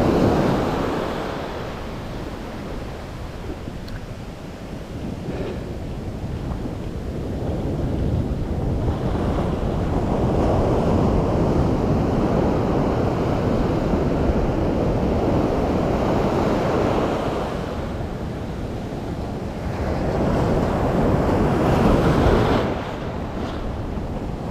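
Ocean surf breaks and rolls toward the shore in a continuous roar, with surges around the middle and near the end, mixed with wind buffeting the microphone.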